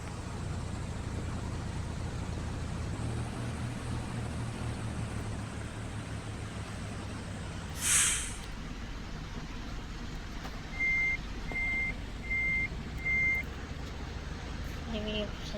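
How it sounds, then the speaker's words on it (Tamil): Busy bus stand with a steady rumble of idling buses and traffic, a brief louder hiss, and a short run of four faint reversing beeps near the end, with some voices in the background. "ஒரு வழியாக வந்தாச்சு பஸ் ஸ்டாண்டு."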